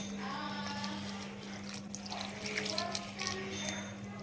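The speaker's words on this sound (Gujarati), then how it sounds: "આ રીતે ઠંડુ પાણી નાખી અને પાલકને એકદમ ઠંડી કરી દેવાની" Cold water pours and trickles over spinach close by over a steady low electrical hum, a soft continuous splashing without voices.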